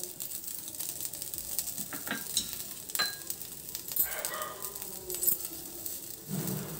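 Ajwain spice mix with rock salt and chili seeds frying in a pan gives a continuous close sizzle, with stirring scrapes and small clinks throughout and no talking.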